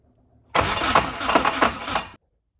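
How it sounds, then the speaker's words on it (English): A car engine running on a new Haltech Elite 1500 ECU cranks briefly and fires into a rough, loud burst for about a second and a half, with rhythmic pulsing, then cuts off abruptly to silence. "you're gonna go ahead and crank this up whenever you're ready"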